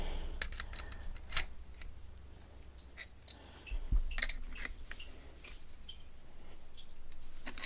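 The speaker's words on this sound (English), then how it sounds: "we're going to tighten it down with our crescent wrench here" Crescent wrench tightening a part on a TX200 air rifle, a sequence of small metallic clicks and ticks with a louder clatter near the middle, close and fairly quiet.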